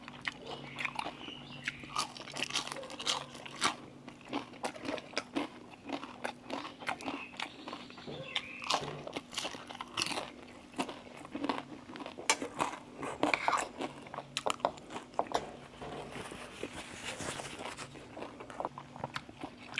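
Pieces of battered, deep-fried bottle gourd are bitten and chewed close up, giving repeated crisp crunches and crackles at an irregular pace, with faint background noise and a little quiet voice.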